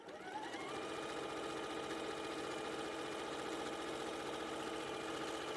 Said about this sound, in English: So to the sewing machine,